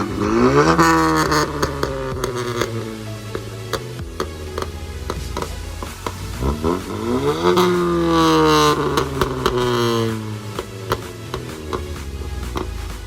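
A modified 2019 Honda Civic Sport engine revving repeatedly, heard from outside the car, pitch climbing and falling in several loud surges, with mechanical clatter between revs.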